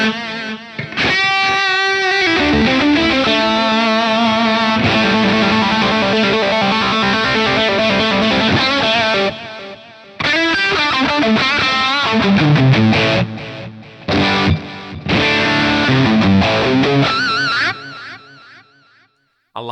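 Electric guitar played through the 2290 delay effect on a Fender Mustang Micro Plus, dense sustained chords and notes with echoing repeats trailing after each phrase, loud and continuous with a brief break midway and a fading tail.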